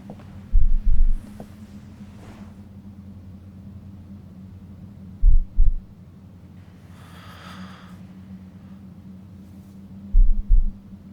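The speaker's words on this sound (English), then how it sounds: "The heartbeat, the breathing, all of it's amazing." Heartbeat sound effect in a song: three pairs of deep, thumping beats spaced several seconds apart over a low, steady hum, with faint breathy texture in between.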